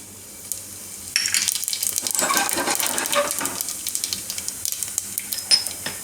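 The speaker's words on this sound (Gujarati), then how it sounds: "તેલ ગરમ થઈ ગયું હોય આપણું એમાં જીરું નાખીશું" Cumin seeds hit hot oil and burst into a loud crackling sizzle after a quiet opening, with bright pops and spits continuing and slowly easing off.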